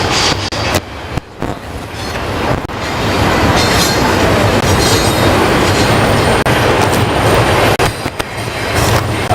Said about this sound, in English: it's the longest train known to man.